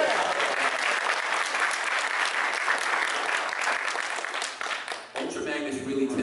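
Large convention crowd at San Diego Comic-Con applauds and cheers the reveal of the Transformers Cybertron Siege leader class Ultra Magnus figure, loud dense clapping that fades near the end as a voice resumes.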